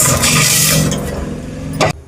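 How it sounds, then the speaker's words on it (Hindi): Water is poured into a hot pan for kheer with fried dry fruits and coconut, a loud hissing, sizzling gush that slowly settles, then a brief clatter before it stops abruptly. "देखिए 3 गिलास पानी डाल रही मैं।"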